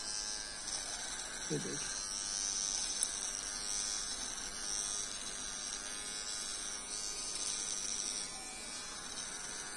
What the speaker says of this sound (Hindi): जब आप ये ट्रिमर यूज़ करते हैं